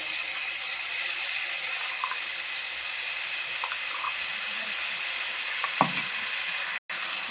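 Frying potatoes for Kashmiri aloo dum sizzle in a pan as spices go in, a steady close hiss with a few faint clicks and a brief knock near the end, no talking.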